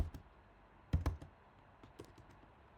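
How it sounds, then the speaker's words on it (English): Someone typing on a computer keyboard, a few sparse, soft key clicks in small clusters, close but faint against a quiet background, with no speech. "So I'm just going to type bcrypt"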